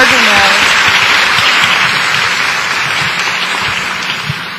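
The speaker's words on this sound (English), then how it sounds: "Let's clap our hands." An audience at a tertulia gathering breaks into dense, sustained applause, loud and steady across the whole stretch, with a voice briefly audible at the start.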